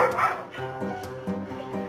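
A guard dog gives a few short, nearby yips and barks in quick succession, fairly soft and whiny.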